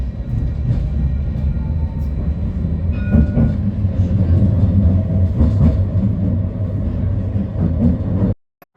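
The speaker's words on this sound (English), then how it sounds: "Here comes my tram." An Edinburgh tram rumbles in close, with steady rolling noise, faint squeals and rattles, then the sound cuts off abruptly at the end.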